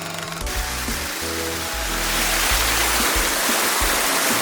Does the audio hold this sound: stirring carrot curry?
no